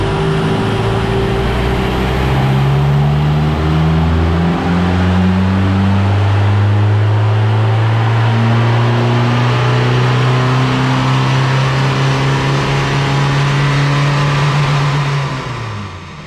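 A VW Golf MK2 GTI 16v, reported as down on power, drives along a hill road with its engine loud and close, droning steadily as it pulls through the gears, with rising and falling engine tones.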